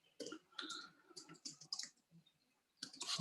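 Computer keyboard typing on a desk, a quick run of close, crisp key clicks in bursts with short pauses, fairly loud and heard alone.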